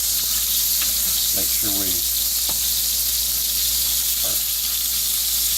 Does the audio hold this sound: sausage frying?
yes